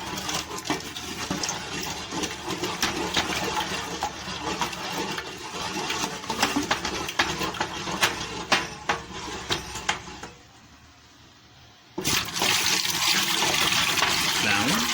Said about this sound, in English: Water addition should be gradual to ensure proper stirring.